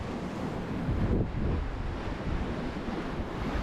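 Ocean waves slap against the wing deck of a sailboat sailing upwind across the Atlantic, a loud wash of surf and spray with wind buffeting the microphone and no voices.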